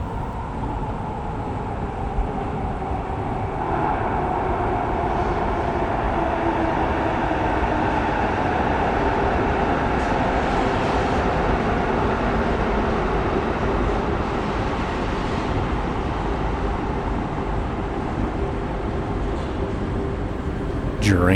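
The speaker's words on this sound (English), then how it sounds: "there are 5-car trains running through these stations" A five-car Edmonton LRT light rail train runs through a station, producing a loud, continuous rumble and hum of wheels and motors that holds steady for about twenty seconds with little change.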